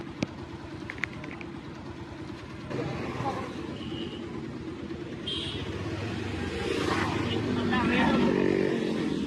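A motorcycle turns around on a weekend ride along the riverside road at Diamond Harbour, its engine a steady close rumble that swells toward the end amid road noise.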